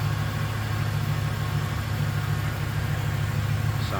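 A 1996 Chevrolet Impala SS with its 5.7 liter 350 V8 idles steadily, a close, even low rumble with a constant rhythmic throb and no change in speed.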